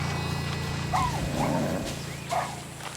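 Dogs in the video game Far Cry 6 give a few short barks and yips against a steady low game hum, fairly faint and somewhat distant.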